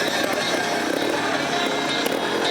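A trial motorcycle engine revs hard and continuously at close range during a trial competition in Castellolí, a loud, steady buzzing roar with slight rises and dips throughout.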